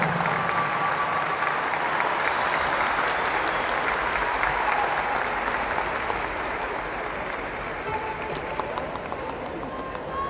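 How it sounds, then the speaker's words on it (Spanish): A concert audience in Cajamarca applauds after a dance performance, broad sustained clapping filling the space for about ten seconds and easing slightly toward the end. "Esas palmas por esa excelente danza"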